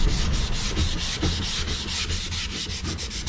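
Wet sanding a Z28 car part after spot putty repair: steady, close back-and-forth rubbing strokes in a quick even rhythm, loud and continuous with no talking.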